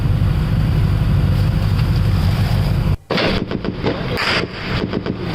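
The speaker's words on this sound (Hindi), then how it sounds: "उसी दौरान टोल प्लाजा पर फायरिंग की आवाज़ आपको सुनाई देगी।" Gunfire during a pre-dawn encounter at a toll plaza in Nagrota, Jammu and Kashmir: a dense, continuous roar of shots under heavy noise, breaking briefly and resuming as rapid bursts.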